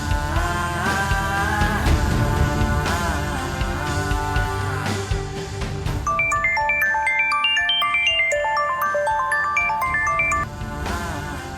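A mobile phone ringtone plays loudly and close for over eleven seconds, a melodic electronic tune repeating in bright, clear notes with no talk over it.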